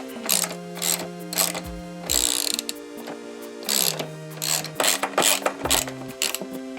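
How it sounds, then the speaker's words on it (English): A ratchet tightens bolts while fitting a tail tidy on a Yamaha XJ6 S Diversion motorcycle, sounding as repeated close bursts of quick clicking strokes with short pauses between them. "Where's my ratchet?"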